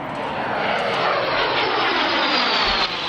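The engine of a Grob business jet roars in a loud, steady, broadband rumble and whoosh that holds constant throughout, close and uninterrupted.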